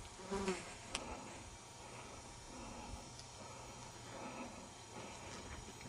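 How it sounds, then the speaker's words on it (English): Flies buzzing close around a person outdoors in rugged mountain canyon country, a soft continuous drone that swells and fades as they circle, with no talking. "I got flies buzzing around here."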